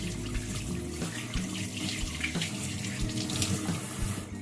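Tap water runs steadily into a sink as hands are washed beneath it in a home kitchen, with a continuous close splashing rush and a few soft bumps and shifts in the flow.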